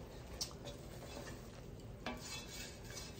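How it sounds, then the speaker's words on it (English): Pecan candy mixture being stirred in a pot, giving soft, steady scraping and faint swishing with a small clink or tap, quiet and close with no voices. "And you just stir until it gets thicker."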